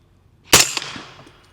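A single sharp gunshot from an 8.6 Blackout rifle fired outdoors, loud and close, with a sudden crack followed by a decaying echo and a faint secondary report.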